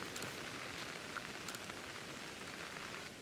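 Steady rain falling in Pokémon Legends Arceus, a soft continuous hiss of drops pattering evenly with no talk over it.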